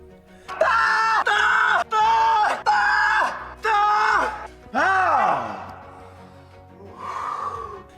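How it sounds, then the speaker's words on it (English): A rock climber screams with exertion while on a climb: five loud, strained, evenly spaced cries, then a long wail that falls in pitch and a quieter cry near the end, all close to the microphone. "he has developed a much memed habit of screaming like a banshee on his climbs"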